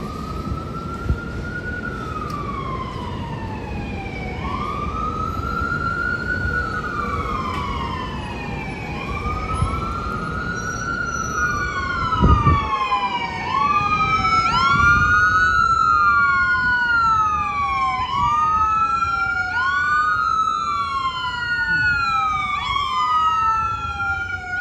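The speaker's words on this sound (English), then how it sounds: "Sound like two ambulances." A single ambulance's loud siren wails in steady rising and falling sweeps on a New York City street, its tones overlapping and doubling as if two sirens sound at once, over road rumble.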